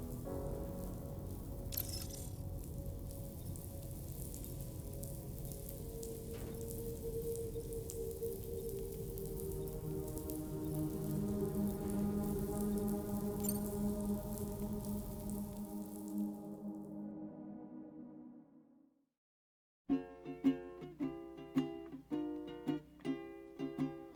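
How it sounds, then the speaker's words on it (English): Steady rain falls in the video game Death Stranding 2, a dense continuous patter for about sixteen seconds that fades to silence before a few tonal musical notes follow. "Raindrops are falling on my head"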